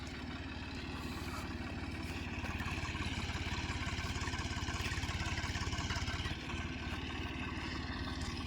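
A tractor engine running at work in a sugarcane farm field, a steady mid-pitched rumble with a regular throbbing pulse, fairly distant and unchanging throughout.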